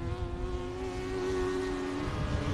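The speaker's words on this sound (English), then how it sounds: "these guys run with a motorcycle engine, so that's why you hear that high-pitched sound" A sprint race car fitted with a motorcycle engine whines at a high, steady pitch at South Texas Race Ranch, sounding distant and droning like a buzzing insect, with a faint rumble of other engines beneath.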